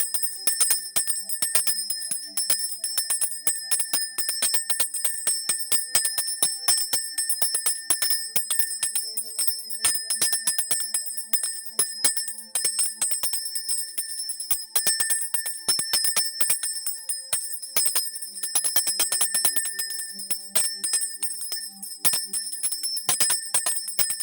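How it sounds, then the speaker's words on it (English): A bell rung over and over in quick, irregular bright strikes with sustained ringing overtones, close and fairly loud, with no talk over it. "I'm gonna ring this bell."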